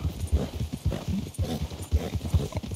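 Horse hooves clip-clop in a steady trotting rhythm in the video game Red Dead Redemption 2, close and clear with no talk over them.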